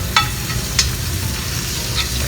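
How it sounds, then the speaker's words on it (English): A NY strip steak basted with melted butter and herbs in a tilted pan gives a steady close sizzle, with a few sharp spoon scrapes and spatters on top. "baste your steak"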